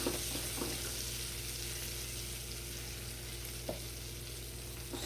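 Shrimp frying in a pan give a steady, close sizzle with a constant low hum beneath and a couple of faint clicks, heard on their own with no talking.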